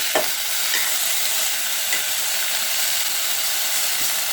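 Whole spices and lentils tempering in hot oil in a pan for coriander chutney give a steady, close broadband sizzle with a few soft stirring scrapes, unbroken and without voices.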